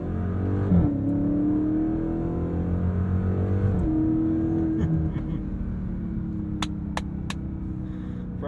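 Engine of a 2023 Chrysler 300C revving as it accelerates through the gears toward red line, each rising pull broken by a quick shift, loud and steady from inside the car, with a few sharp clicks near the end.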